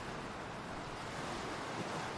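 Sea waves and wind over open, restless water, a steady, full roar of surf and gusting air with no pauses and no voices.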